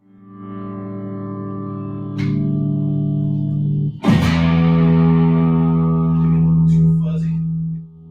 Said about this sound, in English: But you're just hearing a crank amp.